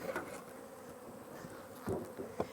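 Honeybees buzzing inside a closed hive, a steady low hum with brief louder swells of nearby wingbeats.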